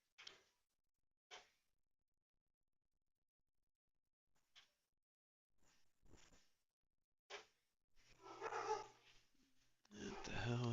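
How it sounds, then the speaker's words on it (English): A dog barks in scattered single and paired barks, fairly close, separated by silence, followed by louder rustling and a growl-like noise near the end. "What the hell is this dang dog barking at?"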